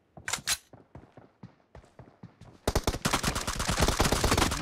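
Gunfire in PUBG Mobile team deathmatch: a few separate shots ring out, then a sustained burst of rapid automatic fire swells and carries on to the end.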